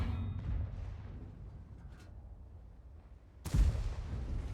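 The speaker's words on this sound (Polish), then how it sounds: "Przebił się, przebił się Max przez pancerz typka ze zwykłej amunicji." A single heavy cannon blast from an Object 263 tank destroyer in World of Tanks cuts in sharply over a low rumbling battle ambience on the Erlenberg map, followed by a brief tail of noise.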